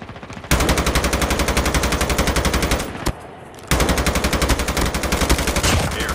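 Rapid automatic weapon fire from a shooter video game, a loud continuous burst that breaks off briefly near the middle and then resumes just as dense.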